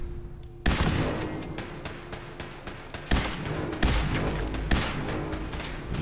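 Rapid bursts of automatic gunfire from machine gun turrets in Fallout 4, with several sharp, loud volleys and heavy thumps cutting in over a continuous rattle of shots.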